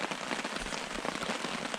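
Steady rain drums on the mesh and fabric of a bug tent at a canoe campsite in Algonquin, a dense, even patter of drops close by with no voices.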